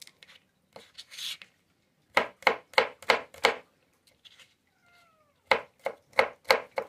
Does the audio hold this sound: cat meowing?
yes